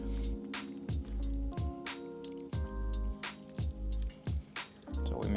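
Beef pasta stirred together with starchy pasta water in a pan at a desert camp, giving repeated wet squishing and stirring bursts up close, each with a short liquid slosh, over a low steady background hum.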